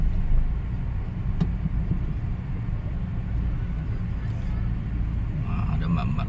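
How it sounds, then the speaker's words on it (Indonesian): Heavy, jammed road traffic on a street in Jogja: a continuous low rumble of idling and creeping engines fills the scene, steady and fairly close throughout. "Ini macet banget jalanannya."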